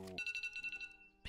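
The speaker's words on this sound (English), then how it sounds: "Be quiet, phone." A phone ringtone chirps in a quick run of about a dozen bright, even pulses, close and fairly clear, ending with a brief voice cutting in.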